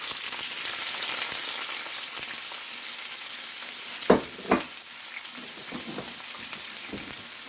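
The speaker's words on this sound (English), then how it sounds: "we're going to stir fry our 2 green peppers, well, 2 green peppers and a half" Green peppers, onion and garlic stir-frying in olive oil in a skillet give a steady broadband sizzle throughout, close up, with two brief louder stirring clatters midway.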